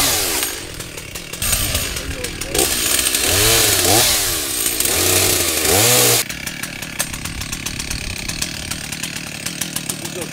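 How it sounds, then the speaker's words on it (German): A chainsaw runs during a fire brigade call on a windy day, cutting tree branches that hang into a road. The engine drones and revs up and down loudly while it cuts, then idles noisily. "Ein paar Äste eines Baumes ragten in die Fahrbahn und mussten mittels Kettensäge entfernt werden."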